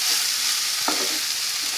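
Lentil paste frying in a wok is stirred, a soft scrape cutting through a continuous sizzle.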